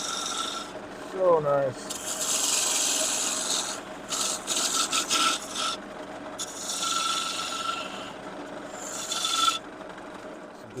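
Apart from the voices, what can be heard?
woodturning lathe tool cutting wood, throwing shavings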